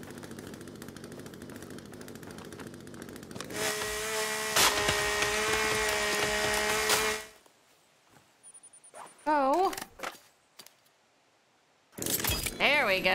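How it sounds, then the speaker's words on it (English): A chainsaw in The Forest video game buzzes loudly for several seconds as it cuts wood, stops, then revs again at the end, with a voice talking between bursts. "But I still have my chainsaw."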